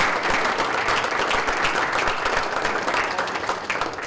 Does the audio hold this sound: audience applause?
yes